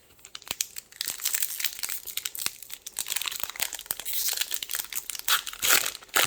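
Foil wrapper of a Magic: The Gathering Commander Legends booster pack being torn open and crinkled by hand, a close, continuous crackle of plastic with sharp rips and rustles throughout, no talking.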